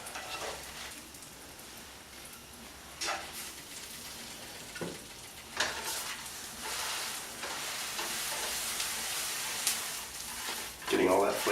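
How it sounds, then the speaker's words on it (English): Ham slices frying in a pan for eggs Benedict, a steady hiss of sizzling with a few sharper pops and clatters of handling, fairly quiet and close throughout. "And into the pan goes our ham."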